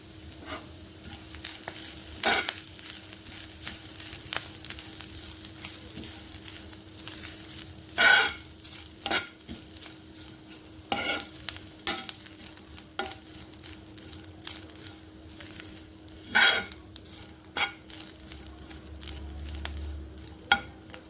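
Grated coconut fries in ghee for a sweet palm-fruit kheer, with a quiet, steady sizzle broken by frequent scraping strokes of a spoon on the pan.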